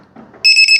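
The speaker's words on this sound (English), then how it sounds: "Watch. Beep." A single sharp electronic beep, loud and close, from the controller of a FlyWing BO 105 RTF GPS helicopter drone after a button is pressed. It follows a faint handling noise.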